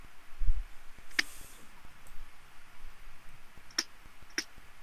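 Three sparse, sharp clicks stand out over a quiet room hum during a Dungeons & Dragons session: one at first, then two close together near the end.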